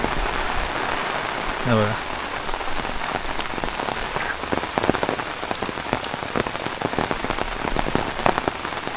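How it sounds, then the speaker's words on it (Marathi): Heavy village rain pours steadily on surfaces, a dense continuous patter with sharp drips, and a voice speaks briefly near the start. "तुमच्याकडे पण असा पाऊस पडतोय का?"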